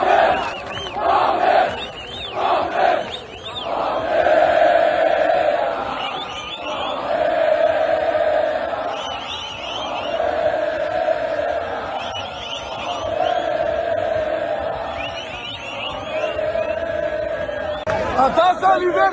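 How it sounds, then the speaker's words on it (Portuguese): Palmeiras football supporters gathered in the United States chant loudly in unison, a large crowd singing rhythmic, repeated phrases with shouts and cheers rising over the sustained roar. "bora acompanhar a grande festa da torcida do Verdão nos Estados Unidos"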